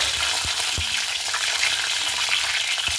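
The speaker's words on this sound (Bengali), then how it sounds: "এবার আমি সে তিনটে ডিমটাকেও ভেজে নিচ্ছি খুব ভালো মতো করে" Eggs fry in hot oil with a dense, continuous sizzle up close, broken by a few soft knocks of a spatula, no voices.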